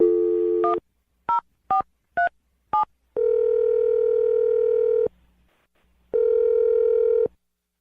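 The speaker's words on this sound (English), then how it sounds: "I'm going to dial the phone number and try and get you a second date update right now." A telephone handset gives a steady dial tone, then five quick keypad dialing tones in a rhythmic run, then two longer ringback tones separated by a silent gap, loud and close.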